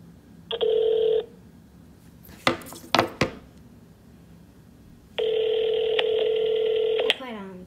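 An iPhone 11 Pro Max places a call: a short steady tone, a few sharp taps, then a longer sustained call tone, loud and close.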